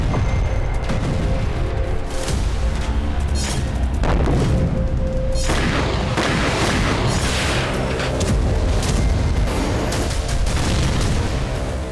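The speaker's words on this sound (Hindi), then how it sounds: "रूसी सेना 3000 किलो के बम से हमला कर यूक्रेन को ध्वस्त कर रही है।" Heavy Russian bombs, reported as 3000 kg, exploding as they strike Ukraine, a loud, continuous barrage of deep booms and rumbling blasts layered over one another throughout, with no pauses or speech.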